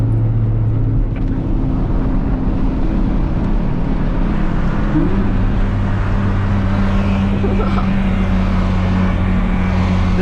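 A Nissan car at a car meet drives off, its steady engine drone rising and shifting pitch partway through, loud and close with no talk over it.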